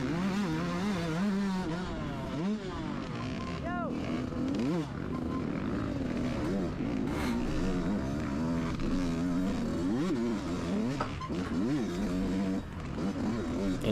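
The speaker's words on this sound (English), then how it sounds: "Also went a little rich on the premix, so the bike is not running that great." A YZ250 two-stroke dirt bike running rich on premix and not running well, ridden in a Old Farm NCHSA race, drones and revs up and down steadily, close and loud throughout, with a voice talking over it.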